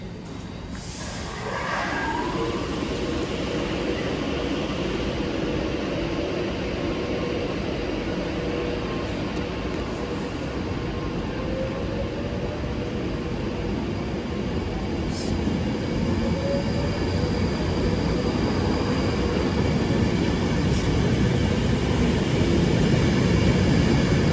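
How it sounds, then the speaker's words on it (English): An Avanti West Coast Class 390 electric train departs a station on a London Euston service, giving a continuous loud rumble and rising drone that builds steadily, with a faint wheel squeal early on and no talk. "Departing now is 390-001, be together on the 12:52 Avanti West Coast service to London Euston."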